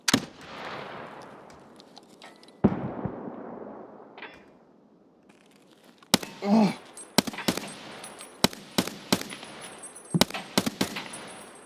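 Gunfire from a weapon in Escape From Tarkov PvE: a sharp shot with a long decaying tail, another a few seconds later, then a close, irregular cluster of loud cracks and short bursts. No voices.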